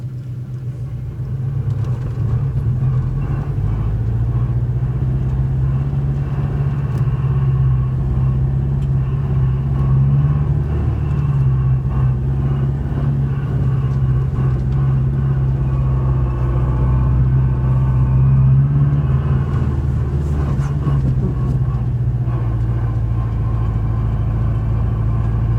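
Steady low drone of a Subaru BRZ with a hydraulic throwout bearing driven in first gear, a continuous engine and drivetrain rumble carrying a faint whine, loud and close for the whole stretch with no talk.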